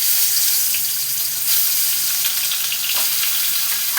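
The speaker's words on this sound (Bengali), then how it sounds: "এই মাছ বড্ড ফাটে" Pieces of boal fish frying in hot oil in a home kitchen, a loud continuous sizzle with sharp spattering crackles throughout, no voices.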